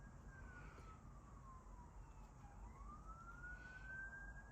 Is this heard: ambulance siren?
yes